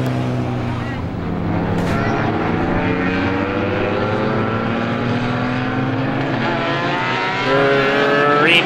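Race cars roar around the track together during a heat race at a Roadrunner event, a loud, dense, sustained engine drone with rising and falling pitches, close and continuous throughout.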